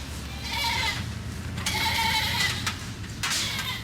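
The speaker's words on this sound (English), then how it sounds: "The nanny goat." A nanny goat bleats loudly and close by in three long wavering calls separated by short pauses.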